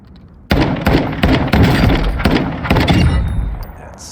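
A battle rifle in a video game fires on full auto, loud and close, in several rapid bursts of sharp cracks over about four seconds.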